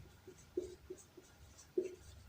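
Pen or chalk scratches out short strokes on paper or board during a Class 10 maths lesson on cylinder surface area and volume. Faint, quiet and intermittent, with a few slightly louder marks.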